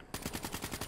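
Rapid bursts of automatic gunfire crackle steadily after a brief quiet start, a loud machine gun in Call of Duty: Black Ops III rattling in a regular rhythm.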